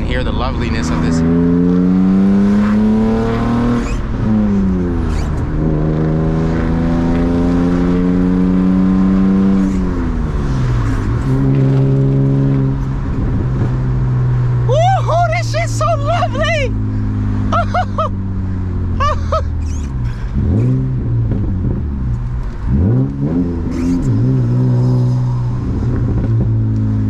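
A BMW E36 328i with a manual gearbox is driven on a rainy morning with the windows down, its engine revving up loudly through repeated gear shifts, pitch climbing and dropping, while a person talks over it.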